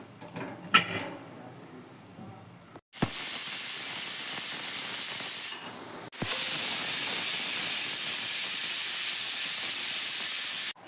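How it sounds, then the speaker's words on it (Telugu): A pressure cooker of mutton curry on the stove lets out loud, close steam hissing in two long sustained bursts, with a quieter stretch of kitchen sound before them. "మటన్ మునిగే వరకు కొంచెం వాటర్ వేసుకొని ఇప్పుడు 3 విజిల్లు రానిద్దాం అండి"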